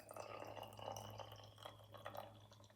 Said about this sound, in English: you're going to fill this bottle 1/3 with water